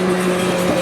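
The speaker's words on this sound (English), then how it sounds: "And it revs like crazy." A brief burst of loud engine drone from a high-mileage Lotus Exige S sports car, its pitch rising slightly as the revs build.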